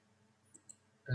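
Two quick, light keyboard key clicks while typing a number during a programming lab exercise, quiet and close, followed by a sudden louder burst at the very end.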